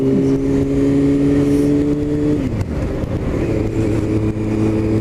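A motorbike on the road to the cinema gives a steady close engine drone, then the pitch drops and rises again as the rider changes speed. There is no talk.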